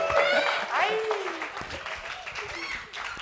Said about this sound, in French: Je vous demande d'applaudir Oumarou, Adam, Walid et Mamadi.